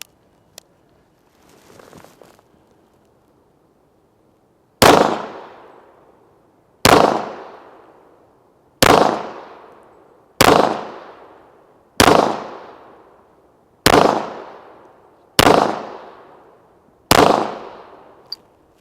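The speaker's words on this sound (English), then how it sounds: "Man, that's a nice shooting pistol." Eight loud, sharp gunshots from a Rock Island Armory Tac Ultra FS 1911 .45 ACP pistol at an outdoor range, fired alone at a slow, steady pace about two seconds apart, each with a short echoing tail.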